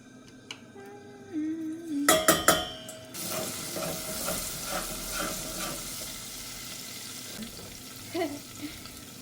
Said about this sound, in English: So while that oil is getting hot, some garlic.